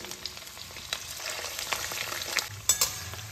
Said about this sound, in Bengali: এই ডিমের কোপ্তাগুলোকে ভেজে নিচ্ছি